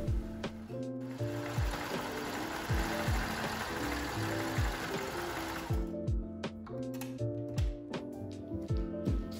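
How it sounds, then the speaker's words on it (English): A home sewing machine stitches knitted sweater torso pieces together, whirring steadily and close up, then changing to short rhythmic bursts of stitching with brief stops in between. "I pinned and sewed both the torso pieces together"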